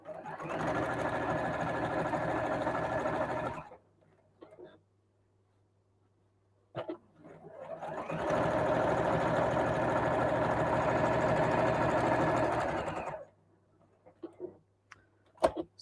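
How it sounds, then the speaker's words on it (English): A sewing machine stitches around the edge of a fabric bag in two long steady runs, each about five seconds, with a pause and faint handling clicks between them. "Sew all around the edge."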